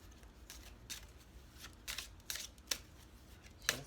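A small deck of about ten or eleven cards is handled and shuffled up close, with soft riffling swishes and a few crisp card snaps, quiet overall.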